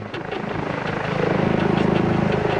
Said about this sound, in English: a police helicopter hovered above